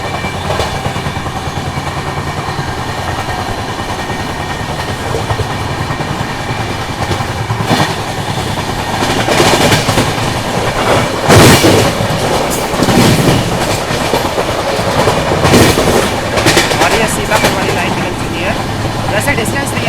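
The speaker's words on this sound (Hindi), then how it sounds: "और सामने हमारे इंडियन आर्मी की देखिए ट्रेन" An Indian Army train passes alongside a moving Rajdhani Express, heard from inside the train as a loud, steady rumble and clickety-clack of wheels on rails, swelling in brief whooshing surges as it goes by, with a voice speaking over it.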